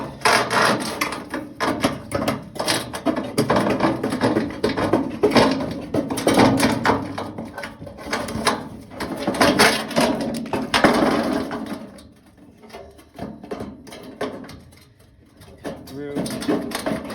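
Hand snips cut through a metal gutter to form a clean miter, giving a steady run of rough, crunching metal snips at close range, then thinning out into quieter, sparser cuts near the end.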